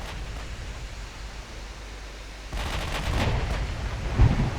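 Naval guns firing high-explosive shells in the warship game Ultimate Admiral Dreadnoughts, a dull rumbling bed that swells into a louder burst of booming reports and crackle partway through, with one heavier thump near the end.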